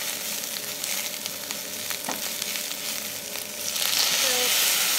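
Prawn shells fry and caramelize in a hot pan, a close, steady crackling sizzle with occasional stirring scrapes that swells a little louder near the end.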